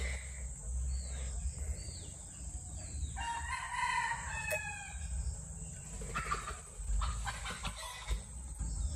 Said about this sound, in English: That's the chickens going up in the tree.